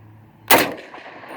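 A single sharp tank cannon blast from a video game cracks out close and loud, followed by a brief fading rumble and ringing tail.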